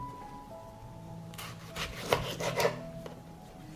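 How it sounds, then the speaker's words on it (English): A knife cuts a washed tomato into slices, giving a few close, soft slicing and scraping strokes, with a brief knock of the blade on the board partway through. "I will clean the tomato from the center and cut it into slices"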